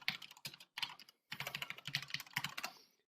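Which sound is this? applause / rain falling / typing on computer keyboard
typing on computer keyboard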